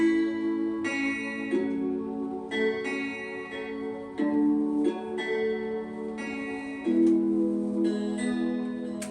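A guitar plays a slow chord progression in a produced track, its sustained, clearly pitched chords changing about every second or so, up close and on its own with no voices.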